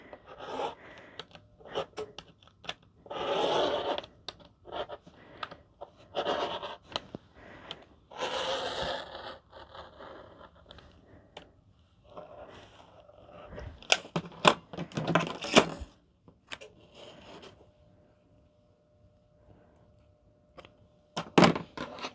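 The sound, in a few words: cutting a fabric piece for a crossbody bag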